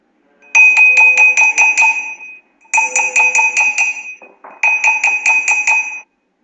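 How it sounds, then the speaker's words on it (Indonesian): A glass bottle is struck over and over, ringing with a clear bell-like tone in three loud, close runs of quick taps separated by short pauses, with no talk. "Botol kaca yang dipukul akan bergetar dan menghasilkan bunyi."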